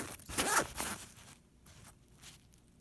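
A quick pull on a backpack zipper fitted with a replacement zipper pull rasps once, close and fairly crisp, then fades into quiet shuffling.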